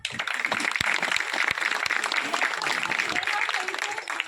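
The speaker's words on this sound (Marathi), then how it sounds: "इथे एकदा जोरदार टाळ्या" A crowd at a film promotion event claps loudly and continuously, a dense wash of applause with a few sharper individual claps standing out, voices mixed in.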